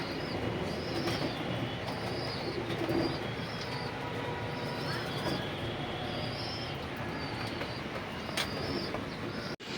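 Kittel racing pigeons are let out into the rain; a steady, loud hiss of rainfall fills the whole stretch, with faint high bird calls scattered above it.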